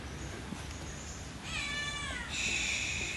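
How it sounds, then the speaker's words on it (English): A cat meows outdoors on a rainy walk at Prince of Songkla University in Phuket, Thailand, two drawn-out, fairly close cries over steady rain hiss, the second louder, with no talking. "while we scare off the kitty away"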